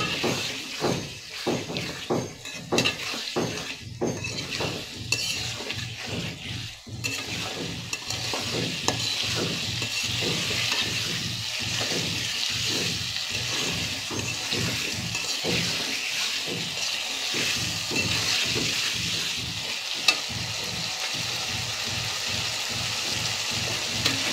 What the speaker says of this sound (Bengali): কচুরমুখীগুলো দিয়ে আমি ভালোভাবে নেড়ে নিব